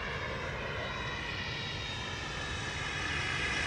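Tiny RC turbine jet plane, Avanti S V2, flying with a continuous loud, broadband roaring whine that holds steady throughout with no voices.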